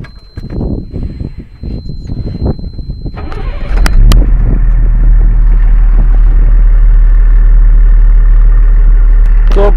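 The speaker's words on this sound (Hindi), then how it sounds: "चलिए गाड़ी को स्टार्ट कीजिए।" A HYVA 2518 tipper truck engine cranks and fires up after some clatter and thumps, then settles into a loud, steady, low diesel idle that continues right to the end.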